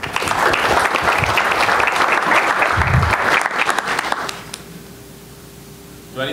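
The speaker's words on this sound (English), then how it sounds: "let's give Ryan a big round of applause and a big welcome to Drive" An indoor conference audience gives a speaker a welcoming round of applause at a fundraising technology talk, with dense clapping for about four seconds that then tapers off into quiet room tone.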